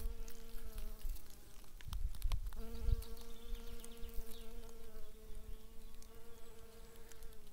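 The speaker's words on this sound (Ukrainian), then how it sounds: "Кругом працює бджілка трудяга" Bees work flowers near a forest, giving a continuous close, droning buzz that wavers in pitch as they move, with a brief rustling disturbance partway through.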